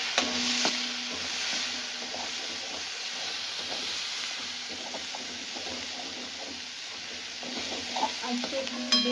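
Chopped onion and five-spice frying in a pan, a soft continuous sizzle and hiss with frequent quiet scraping stirs, close and steady throughout.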